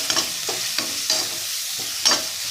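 Three chopped tomatoes are stirred in a hot pan, with a steady sizzle of sautéing under rhythmic scraping strokes of the spoon about every half second, close and clear.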